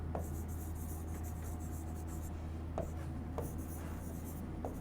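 Marker or chalk scratching across a classroom board during an English lesson, steady faint scraping with a few sharper taps, set against a constant low hum.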